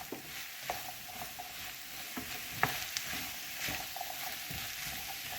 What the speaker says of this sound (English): And now the garlic, zucchini, and celery is going to go down.